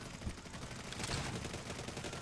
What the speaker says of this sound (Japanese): すげえ銃声。